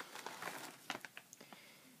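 A plastic shopping bag holding a Walmart guinea pig haul crinkles close up as it is handled, with a run of sharp crackles and rustles that thin into separate snaps toward the end.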